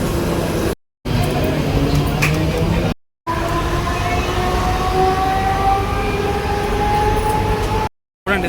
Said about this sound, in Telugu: మనం ట్రావెల్ చేసే ట్రైన్ అయితే వచ్చేసింది.